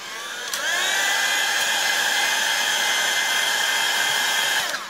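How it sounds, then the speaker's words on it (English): A handheld hair dryer runs steadily and loudly at close range, drying a watercolor painting of misty trees; its airy whine starts after a brief moment and holds unbroken for several seconds before cutting off. "I'm gonna dry this one a little bit now"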